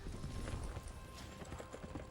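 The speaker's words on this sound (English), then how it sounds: "That's a nice horse." Hooves clip-clop from a horse on a League of Legends Ashe skin, a soft, steady patter in a continuous game-broadcast soundscape, quiet and partly buried under the mix.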